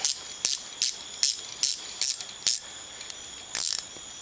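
A ratchet tightening a bolt on the rear cylinder of a Can-Am Renegade 1000 ATV during assembly, about nine short, close clicking bursts spaced irregularly.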